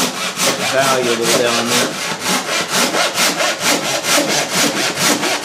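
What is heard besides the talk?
draw saw cutting wood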